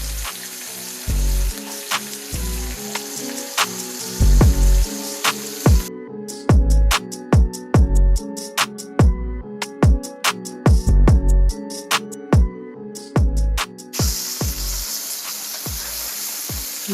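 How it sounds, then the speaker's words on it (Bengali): Koi fish frying in hot oil, a continuous crackling sizzle broken by sharp pops and spatters, with intermittent louder bursts as pieces are moved in the pan. "মাছটা বেশি ভাজা যাবে না"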